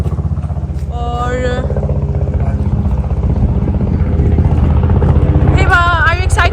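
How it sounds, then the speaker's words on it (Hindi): A helicopter drones steadily in the background near the Statue of Liberty ferry in New York, a low, constant engine rumble. Young voices speak briefly over it. "ये जो बैक नॉइज़ है वो है हेलीकॉप्टर राइड की"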